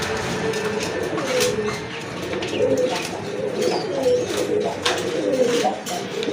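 Pigeons, a male and a female kept for sale, coo repeatedly in soft rolling calls over a steady background hum, heard fairly close.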